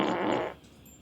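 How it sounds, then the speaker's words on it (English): Amazon Echo smart speaker playing a fart sound effect, a single short, loud blast that cuts off abruptly about halfway through, with no talk. "ask for a fart."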